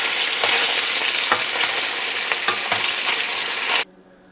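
Sausages with sage and garlic brown in a pan, a loud, dense, continuous sizzle with a few clicks of stirring, cutting off abruptly near the end.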